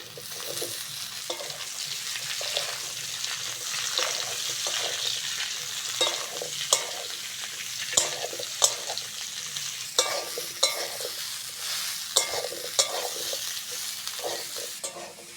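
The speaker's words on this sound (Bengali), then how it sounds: "ফুলকপি আর আলুটা ভালো করে ভেজে নিয়েছি" Cauliflower florets and potato pieces fry in a pan under a steady sizzle, with frequent rhythmic scrapes and taps of a spoon stirring against the metal, close and moderately loud, without speech.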